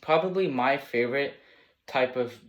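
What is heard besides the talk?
No distinct noise like a dog, phone or traffic.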